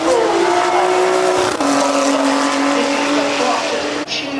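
A Ferrari 296, a hybrid hypercar, drives up the hill at the Goodwood Festival of Speed, its engine droning loud and steady with shifting tones throughout, close and continuous.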